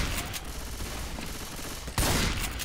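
Shotgun fire in the zombie shooter game Left 4 Dead 2: a dense rattle of gunfire with a sharp, loud blast near the end, steady and close.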